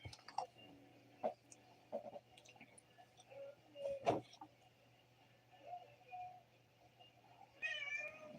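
Pet cat indoors at night, meowing faintly a few times at scattered moments against a low steady hum, with light clicks and taps; the final meow is louder and wavering.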